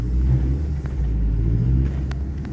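Ford Focus pulling away in drive, first gear, with a gear fault and burnt clutch odor, giving a steady low engine rumble that strains and hesitates without clearly revving up, close and continuous.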